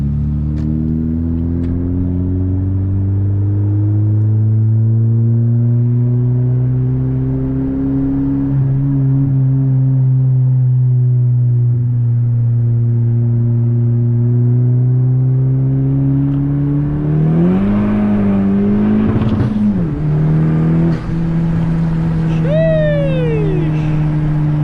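A 10th-generation Honda Civic Si pulls hard on a curvy backroad, its engine droning loud and steady with rising revs, then a quick shift blip and a renewed climb near the end, heard from inside the car.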